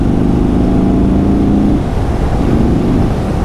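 A 2022 Indian Chief Dark Horse cruiser motorcycle engine revs in touring mode with a loud, steady, mellow throttle rise and slight dip, close and continuous without talk.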